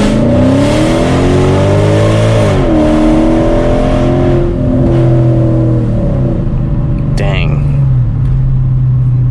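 A Mercedes E55 AMG pulls hard in first gear from a roll, its engine loud and close with the pitch climbing steadily, then easing near the end while a voice speaks over it.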